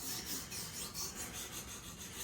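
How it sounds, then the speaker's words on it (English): A knife being sharpened: steady rhythmic rasping strokes of the blade against a sharpener, repeated back and forth at close range, with no talk. "still sharpening up a knife"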